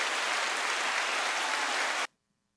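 An audience bursts into steady, dense applause that holds for about two seconds and then cuts off abruptly into silence.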